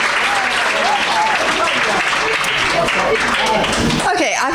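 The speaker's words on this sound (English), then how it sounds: "So clap. Clap yourselves." A large audience at an awards ceremony claps for itself, a loud dense wall of applause sustained throughout, with voices and cheers mixed in beneath it.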